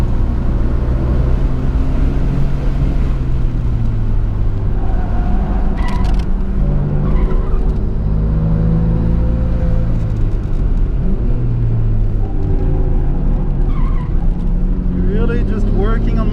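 A 1992 Nissan Skyline R32 GT-R accelerates hard on the Suzuka Twin Circuit, its engine droning loud and close with rising and falling pitch through quick short shifts, steady throughout.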